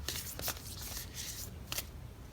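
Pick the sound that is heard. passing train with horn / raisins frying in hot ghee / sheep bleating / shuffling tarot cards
shuffling tarot cards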